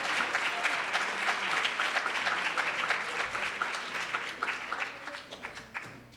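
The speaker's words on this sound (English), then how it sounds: "take a moment and just applaud yourselves for the work that you do" Sustained applause from a large conference audience, dense steady clapping that holds for several seconds before thinning slightly toward the end.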